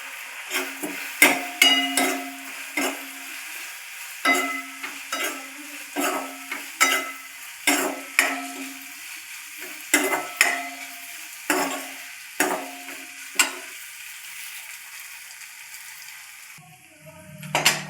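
Leftover rotli pieces frying in a pan, with a soft steady sizzle under a run of sharp, rhythmic stirring clanks and scrapes roughly every second, close and fairly loud, no talking.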